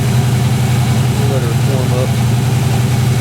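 A 1963 Oldsmobile 88 with a thermal choke idles while warming up, a steady, loud, low engine rumble that runs throughout, with a brief voice heard over it.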